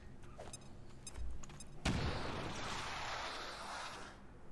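A frag grenade from XCOM Long War of the Chosen bursts with a sharp, loud blast followed by a long rumbling, crackling decay, preceded by faint clicks and game sounds.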